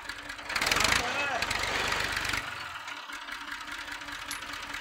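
A tractor engine idles with a steady low chugging rumble throughout, loudest early on, with a voice talking over it.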